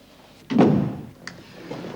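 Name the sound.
door being closed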